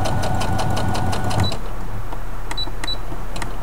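A sewing machine stitches down the petals of a Dresden plate quilted candle mat, its fast steady mechanical whir running loud and close throughout, with a few light clicks toward the end.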